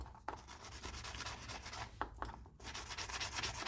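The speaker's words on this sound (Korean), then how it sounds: "그래서 연마를 해줍니다." Leather edge sanded by hand before edge coat goes on: a quiet, steady rubbing and rasping with a few sharper scrape strokes, close up, with no talking.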